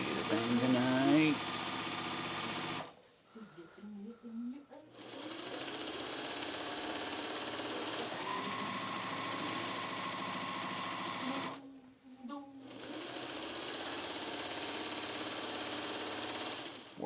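A sewing machine hums in long continuous runs while sewing a jelly roll race quilt seam, stopping briefly twice between stretches; a voice is heard near the start and during a pause.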